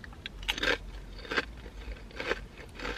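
Close, crisp crunching of masala-flavoured wavy Lays potato chips being bitten and chewed, with several sharp bursts of crackling spaced about a second apart and no talking.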